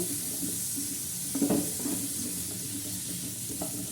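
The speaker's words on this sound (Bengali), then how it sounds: "তারপরে এটিকে ভালো করে ভেজে নেব মাংস দেওয়ার জন্য" Chicken curry base frying in a pan with salt and turmeric, a steady soft sizzle with a few brief stirring scrapes and clatters near the middle, no voices.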